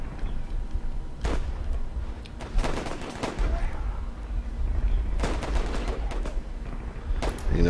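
Machine gunners and riflemen trade fire in the World War I strategy game Warfare: 1917, with scattered rifle shots and bursts of machine-gun fire rattling in clusters over a low, rumbling battlefield background.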